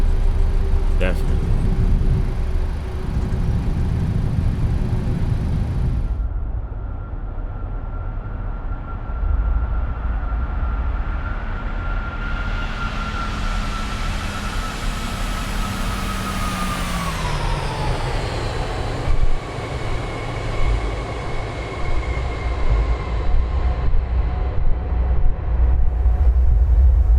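A Southwest Boeing 737-800 rolls out after landing at San Diego in Flight Simulator 2024, with loud engine roar from idle reversers and braking, a whining tone that spools down as the jet slows, and talk over it.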